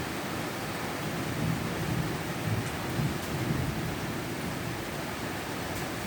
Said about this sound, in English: There's no wind, just rain.